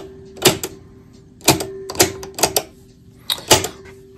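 Push buttons on a 1939 Stewart Warner 5E1 tombstone radio clack down one after another, five or six sharp mechanical clicks spaced about half a second to a second apart against a faint steady hum.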